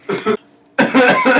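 A person coughs nearby, two quick loud hacks, a short pause, then a longer harsh burst of coughing.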